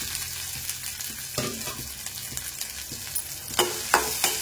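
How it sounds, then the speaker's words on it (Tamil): Crushed turkey berries frying in hot oil, a steady dense sizzle with crackles and pops that grow sharper near the end, close and fairly loud, no voices. "எண்ணெய் சூடானதும் இந்த தட்டி வச்ச சுண்டைக்காய்கள் சேர்த்துக்கலாம்."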